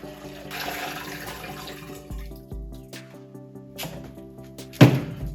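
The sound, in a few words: water being poured in for home cider making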